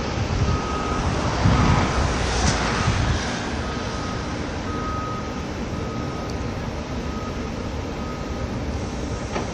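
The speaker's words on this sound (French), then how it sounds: "un autre camion qui se met en route pour être pesé ici même" A truck sets off at a port weighing area, its engine a broad rumble with a steady train of reversing beeps sounding at regular intervals over continuous traffic-like background noise.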